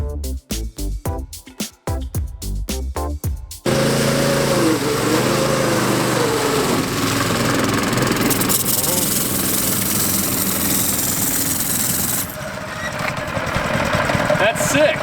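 An outboard motor fitted to an amphibious go kart runs on the water after a few choppy bursts at first, then settles into a loud, buzzing, high-pitched drone with people talking over it.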